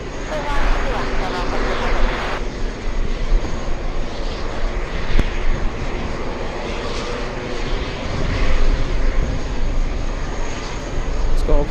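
A heavy airliner lands on runway 22 left at a major airport, its engines a broad, steady roar held loud throughout, with voices talking over it.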